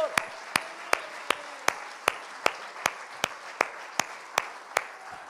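Clapping at a Spanish-language church service: sharp claps land in a steady, evenly spaced rhythm for about five seconds, moderately loud, with a faint voice beneath.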